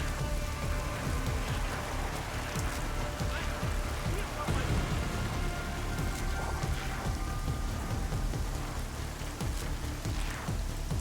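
Steady rain pours down in the video game Deus Ex Mankind Divided, a dense, continuous hiss of drops hitting surfaces with low rumbling underneath and no talking.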